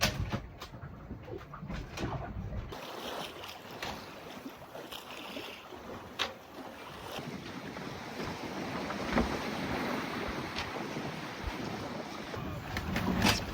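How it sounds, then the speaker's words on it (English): Steady north wind rushes past the microphone over the wash of water against a sailing boat's hull off Baja, south of Ensenada, continuous and fairly loud, with no talking. "a nice, proper north wind. It's pushing us south like it's supposed to."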